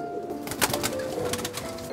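Racing pigeons coo in a loft, a soft, steady murmur of low throaty calls close at hand, with no voices over it.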